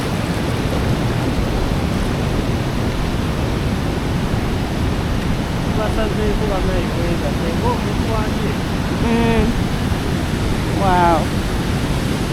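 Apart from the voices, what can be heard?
Busowoko waterfall in Jinja, Uganda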